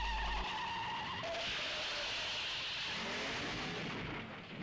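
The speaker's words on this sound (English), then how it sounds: "Bond gets himself into a car chase with the three blind mice, who end up driving off a cliff and exploding" Car chase in the Bond film Dr No as a car drives off a cliff and explodes: a loud sustained engine roar, screeching and rumbling, surging into a broad crashing blast that dies away, with no talking.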